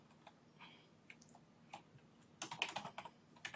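A blog post title is typed on a computer keyboard: faint scattered key taps at first, then a denser, louder burst of rapid clicks, with no talking.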